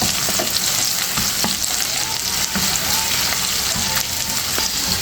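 Onions sizzle steadily while being sautéed in a pan, with occasional scrapes and clinks of a stirring utensil breaking through the continuous frying hiss.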